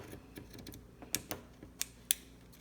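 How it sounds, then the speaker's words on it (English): Scissors snipping through a T-shirt fabric to make yarn, with a few sharp, close cuts spaced irregularly over a quiet background and no talking. "So we're gonna cut just like that. I like to keep my scissors kind of on the table to keep it stable."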